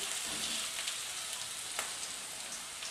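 Fish fillets laid onto garlic and onions fried in a pan on a switched-off burner, giving a steady, fairly quiet sizzle and crackle of hot oil with no voices.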